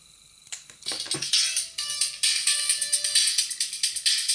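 Buzzy, rasping melody played through an electrical relay amplifier, rapid repeating clicks and harsh tones forming a tune, fairly loud with no talk.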